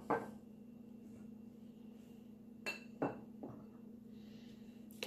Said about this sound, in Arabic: اذا نخلطوا كامل هذه المكونات مع بعضها البعض